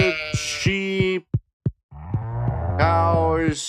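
Cattle mooing in the Stardew Valley farming game: a long harmonic moo, a few short clicks and gaps of near silence, then a second sustained moo, all fairly loud and without talk.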